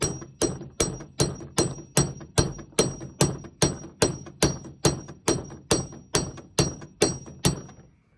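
A hammer pounds a stuck front slip yoke on a Mopar 727 driveshaft, sixteen loud, evenly spaced metallic blows about half a second apart, each ringing briefly before the next.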